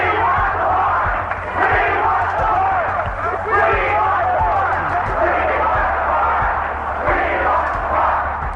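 A crowd of about 3,000 rally attendees marches from UC Berkeley toward a fenced-off property, chanting together in loud, rhythmic waves of massed voices that rise and fall continuously throughout.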